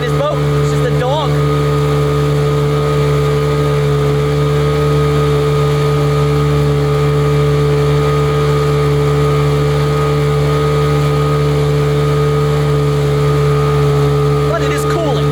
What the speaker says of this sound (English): She is not running like a 15 horsepower motor.